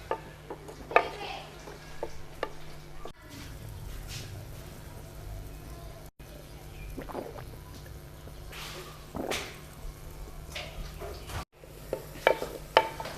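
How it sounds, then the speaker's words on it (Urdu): Onions frying in a pan for a Pakistani dal kofta recipe, a steady low sizzle with occasional stirring scrapes and clinks of a utensil against the pan, close and continuous. "اب ہم اس میں پیاز ڈالیں گے۔ اور ان کو فرائی کریں گے۔"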